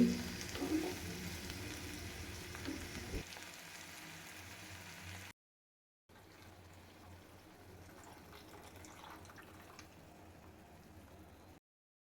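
Ivy gourd curry bubbles and sizzles in a pan while being stirred, a soft, close, steady crackle that drops out for a moment midway, then resumes quietly, with no talking.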